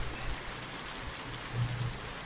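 Steady rain falls in the game Shin Hayarigami 2, a dense, even hiss of drops with a faint low rumble underneath, continuous and unbroken, with no voices.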